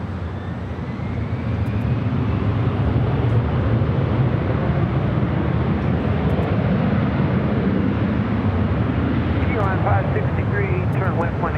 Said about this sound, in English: takeoff. It's Delta A321 heading to Atlanta